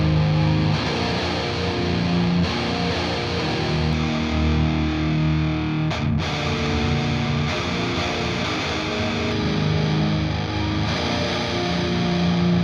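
Thick, distorted electric guitar through an amp simulator, miked with a 441 on a Bogner cabinet, plays continuous palm-muted riffs and ringing chords, loud and full, without any talking.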